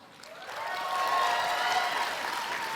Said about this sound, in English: let's give a huge round of applause for one of those men, Mark Frost.